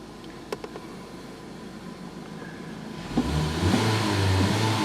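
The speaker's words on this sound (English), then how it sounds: "Let's just whap the throttle here a little bit." A Ford Focus engine with a P0014 fault sits at a quiet idle, then surges into a loud, rising rev as the throttle is blipped, holding a strong roar to the end.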